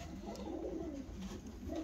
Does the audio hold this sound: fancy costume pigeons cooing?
yes